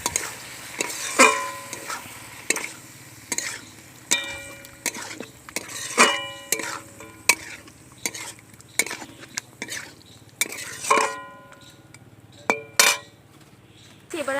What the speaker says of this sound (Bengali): এবার কাঁচা লঙ্কা বাটা দিয়ে দিচ্ছি, দিয়ে আরও কিছুক্ষণ ভালো করে কষিয়ে নেব।